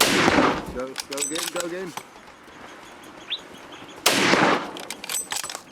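A rifle shot fired at a crocodile on a Zambezi River hunt rings out as a loud, sharp blast at the start, and a second blast comes near the end, with speech and bird calls heard in between.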